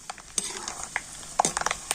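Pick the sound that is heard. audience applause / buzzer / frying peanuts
frying peanuts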